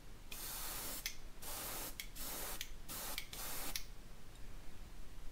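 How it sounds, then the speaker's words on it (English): Aerosol spray paint applied to a bluegill-pattern fishing lure in several short hissing bursts of about a second each, close and fairly loud against steady background noise. "just a couple sprays"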